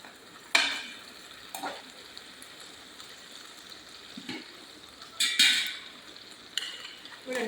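Onions and tomatoes with salt sautéing in a pan, a soft steady sizzle under faint stirring, with a few louder scrapes and clinks of a utensil against the pan.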